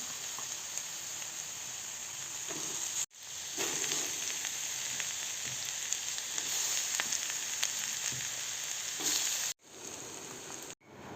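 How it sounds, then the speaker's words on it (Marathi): Cumin, onion and bell pepper frying in a pan, a loud continuous close sizzle with faint stirring, briefly cut by a few abrupt silences, no voices. "त्यानंतर कांदा ॲड करावा. त्यानंतर ढोबळी मिरची ॲड करायची आहे."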